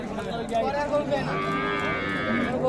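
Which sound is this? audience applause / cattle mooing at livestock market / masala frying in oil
cattle mooing at livestock market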